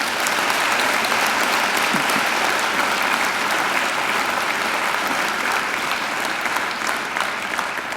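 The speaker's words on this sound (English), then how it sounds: "I think she deserves another enormous round of applause." A large graduation ceremony audience gives a long, sustained round of applause, a dense, unbroken clatter of many hands filling the hall at an even level with no talking.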